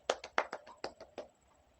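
A few classroom students giving brief applause, about seven quick separate claps that thin out and fade, faint and close, with no talking.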